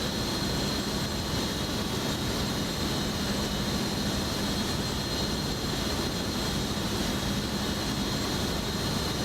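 Inside the cabin of a Loganair Embraer ERJ-145 jet climbing above the clouds, a loud, constant broadband engine and airflow roar fills the space without pause.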